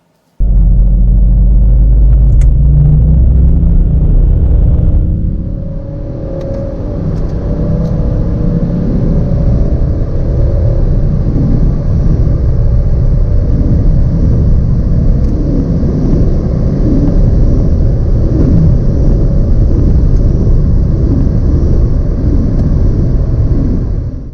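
A BMW X4 35d diesel SUV accelerates hard during performance measurement runs, its engine roaring loudly and continuously for over twenty seconds with a deep rumble and a shift in pitch early on, no voices.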